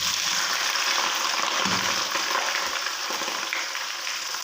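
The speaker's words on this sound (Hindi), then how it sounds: "इनको हम अच्छे से फ्राई कर लेंगे" Three medium onions fry in hot oil for a chicken masala, a loud, steady, close sizzle with crackling hiss and a few soft stirring knocks.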